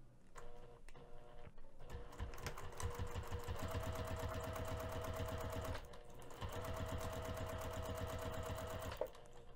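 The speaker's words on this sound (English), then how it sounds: "we're going to be taking this strap over to the sewing machine" A sewing machine top stitches a bag strap with a 3 mm stitch length, a close, rapid, even needle rhythm running nearly continuously with a short pause midway.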